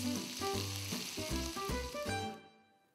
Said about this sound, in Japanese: さらに醤油を鍋肌から一回しして軽く炒めたら、あっという間にイカのバター醤油炒めの完成です。